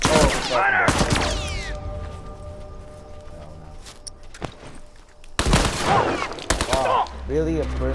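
Burst-fire pistol in The Last of Us Remastered, loud clusters of rapid shots at the start and again near the end, separated by a quieter stretch with a steady hum.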